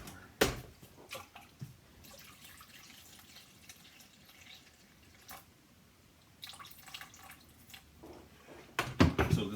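Room temperature water is poured from a kettle for a single sourdough loaf, heard as a low, faint trickle and splash with a few brief louder knocks near the start and a clatter at the end.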